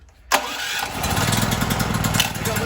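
A DuroMax generator engine on a 1948 Chevrolet Dubl Duti cranks and catches suddenly after a brief quiet, then settles into a loud, steady running drone close by, with no talking.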